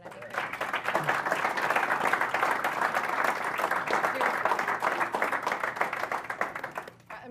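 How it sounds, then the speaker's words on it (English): Sustained applause from an audience at a Subway Series kickoff event with Wilmer Flores and Didi Gregorius, dense steady clapping filling about seven seconds before tapering off at the end. "round of applause"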